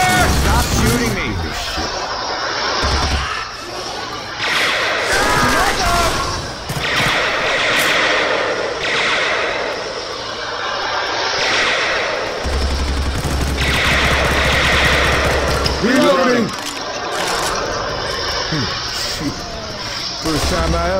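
Rapid gunfire from Left 4 Dead 2 crackles almost nonstop, with dense bursts and repeated shots under a busy mix of game sounds and voices talking throughout.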